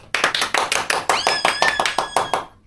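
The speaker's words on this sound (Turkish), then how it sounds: "Alkışlayalım." A family claps for the winner of a home colour challenge, about a dozen sharp, evenly spaced hand claps close by over roughly two seconds, with no talk over them.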